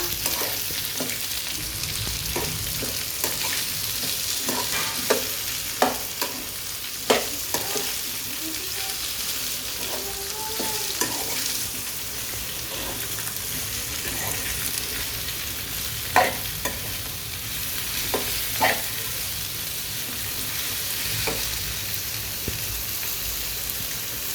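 Mutton pieces fry in a pan while being stirred, a steady sizzling hiss broken by repeated scraping knocks of the spoon against the pan at irregular intervals, with no talking.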